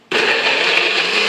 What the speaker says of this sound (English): Then I'm just going to blend it up